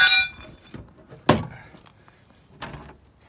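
The compartment lid on a 1973 GMC motorhome is shut with a single sharp, close thunk, followed a moment later by a softer knock in an otherwise quiet space.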